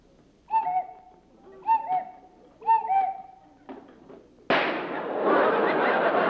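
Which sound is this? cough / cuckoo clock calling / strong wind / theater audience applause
cuckoo clock calling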